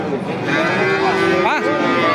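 A young bull moos at a livestock market, a long, close, loud drawn-out low call with a rising and falling bend near the end, over background market noise.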